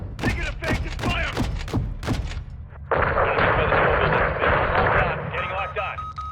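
Gunfire and missile blasts from a military video game on veteran difficulty sound as a burst of sharp, rapid shots, then a loud sustained roar of fire and explosions, with a voice speaking over the battle.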